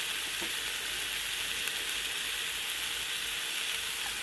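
Garlic frying in oil in a pan, a steady, close hiss of sizzling with faint stirring, continuous and without talk.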